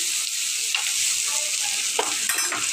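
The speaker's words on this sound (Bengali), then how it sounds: "এখন চুলায় দিয়ে দিলাম পেঁয়াজ কুচি" Chopped onion frying in a pan, a loud continuous close sizzle with a few faint crackles and spoon scrapes over about three seconds.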